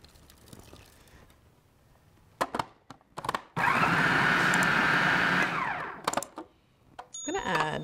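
A food processor whirs loudly for about two seconds while chopping tuna burger ingredients, with clattering knocks before the burst and a second start of the motor at the end.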